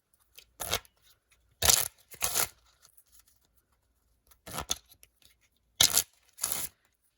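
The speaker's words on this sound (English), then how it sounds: "I'm going to shuffle those 3 times" A deck of playing cards riffle-shuffled by casino rules: several short riffling bursts coming in pairs with pauses between, crisp and close up in a quiet room.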